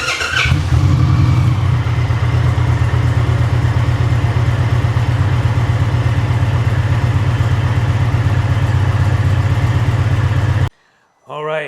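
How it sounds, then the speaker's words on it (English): A 2023 Indian Challenger motorcycle engine idles steadily and loud up close, a continuous low rumble running unbroken for about ten seconds before it cuts off abruptly, followed by a brief quiet moment and a short burst of sound. "now we're going to start the bike, let it idle for 30 seconds, shut it off"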